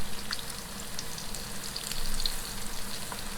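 Salmon croquettes fry in a pan with a steady, close sizzle and crackle, faint spits popping now and then across the whole stretch, with no voices.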